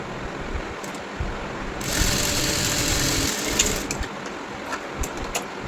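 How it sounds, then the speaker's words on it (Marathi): Sewing machine running a straight stitch along a blouse strip at a half-inch margin, a steady mechanical whir that starts quietly and grows louder midway before easing off, with no talking. "तर इथे अर्धा इंचावरून मी स्टिच लावून देणार आहे सरळ."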